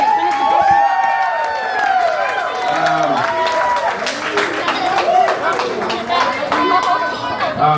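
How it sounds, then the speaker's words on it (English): At a 21st birthday and farewell celebration, a crowd applauds and cheers for performing kids, scattered claps and whoops layered under loud, busy chatter and overlapping voices throughout. "Please give a round of applause for our kids,"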